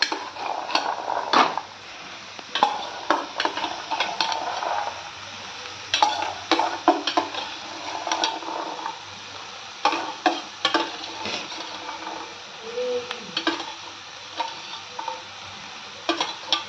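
Boiled chickpeas being stir-fried in an oily tomato-onion masala, with a steady sizzle under repeated scraping and clinking of a spoon against the pan in bursts of stirring.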